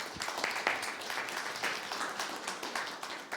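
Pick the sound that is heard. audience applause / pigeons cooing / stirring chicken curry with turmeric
audience applause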